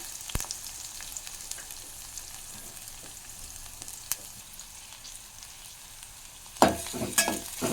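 Green chillies and onion fry in a pan with a continuous crackling sizzle, a few scattered clinks, and a sudden louder burst of sizzling near the end as more onion goes in.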